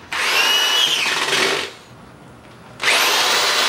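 Power drill driving a screw into a wood board while building a pie toss game, two loud close whirring bursts separated by a short quiet pause.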